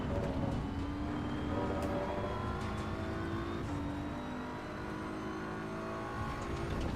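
Race car engine in the racing game Assetto Corsa EVO drones steadily throughout, with layered harmonic whine rising and falling through gear changes and no talking.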